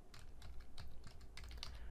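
Quick, light keystrokes on a computer keyboard as a file name is typed, a short run of soft, close clicks at an even pace with no voices.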